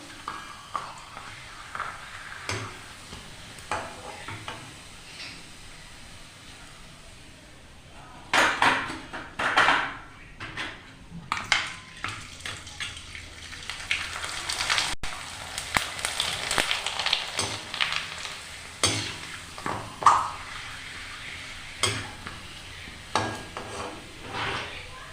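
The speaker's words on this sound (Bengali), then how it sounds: "পাঁচটা পাঁপড় ভেজে নিলাম বন্ধুরা" Homemade tomato papad fries in hot oil, with bursts of bubbling sizzle and clinks of a utensil against the pan, rising and falling over about twenty-five seconds, close and fairly loud.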